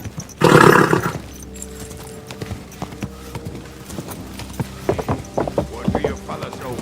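Horse hooves clip-clop in an irregular rhythm in the video game Kingdom Come: Deliverance 2, opening with a loud burst and a whinny, then continuing as close, uneven steps.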